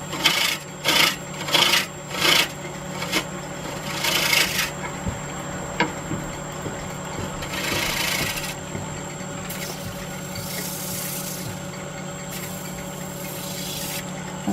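A wood lathe spins a wooden bowl while a tool finishes its rough bottom, starting with several sharp scraping cuts, then a steady grinding rasp over a constant motor hum, close and fairly loud.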